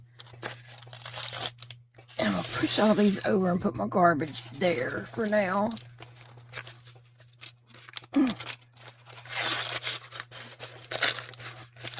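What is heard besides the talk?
small scissors cutting open a toy package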